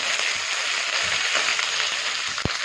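Two large onions frying in a pan give a steady, close sizzling hiss that runs throughout, with a brief knock of the pan near the end and no talking.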